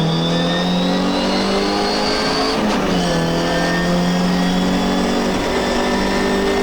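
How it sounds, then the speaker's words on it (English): An MGB race car engine at Silverstone GP circuit in a classic race is heard from inside the car, holding a loud, steady high-revving drone, then dipping briefly at a gear change before climbing again. "The engine in my car is certainly running pretty well."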